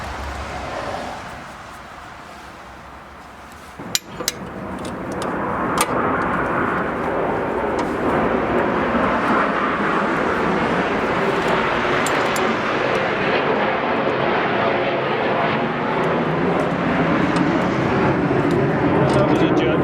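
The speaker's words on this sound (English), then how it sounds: "That was a jet." A jet aircraft passes overhead outdoors, its broad roar swelling after a couple of sharp clicks and then holding as a loud, steady rush for many seconds.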